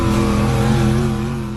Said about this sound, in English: A Volvo articulated dump truck sinks deep into the mud and struggles to move.